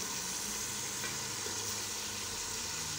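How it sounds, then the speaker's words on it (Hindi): Pieces of Afghani tendiyan ghost fry in a pan with a continuous soft sizzle and bubbling, even and unbroken, over a low background hum. "भुनाई करते जाएंगे, फ्राई करते जाएंगे।"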